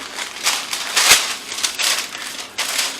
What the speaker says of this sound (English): my skillet's really hot. I'm going to toss that in there